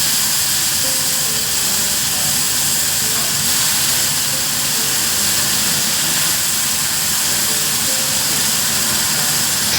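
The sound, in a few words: bombil (Bombay duck) fish frying loudly in oil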